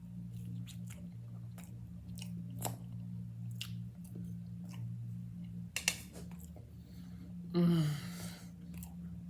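Someone eating French toast gives close, soft chewing and occasional crunchy bites over a steady low hum, with a louder squishy bite near the end and no talk.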